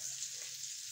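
Fish poriyal frying in a pan, giving a steady, dense sizzling hiss that holds evenly throughout with no voices.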